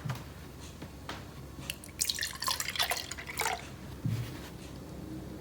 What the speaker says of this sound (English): The first step is to pour your whole milk into your cup.